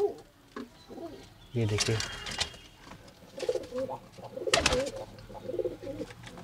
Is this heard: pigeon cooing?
yes